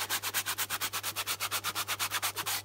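Coarse sand and a brick are rubbed against military webbing in quick regular back-and-forth strokes, about eight per second, a close, even scratchy scraping with no talk.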